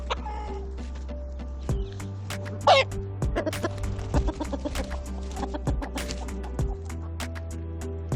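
Hens cluck and murmur nearby in short, irregular bursts, with one sharper squawk standing out from the steady low chatter.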